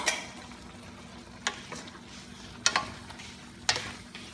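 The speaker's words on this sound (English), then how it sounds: "We're gonna add our okra and mushroom stems" Okra and mushroom stems hit a pan of frying pork belly, giving a soft, low sizzle broken by a few sharp clinks and scrapes of a utensil.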